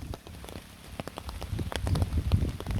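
Heavy rain pounding a bypass road, a dense steady patter with close raindrop hits that builds louder toward the end, with no voices.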